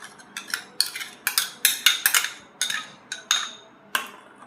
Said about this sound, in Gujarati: પછી આપણે ધીમે ધીમે હલાવી દઈશું